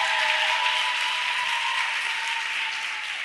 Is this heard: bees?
no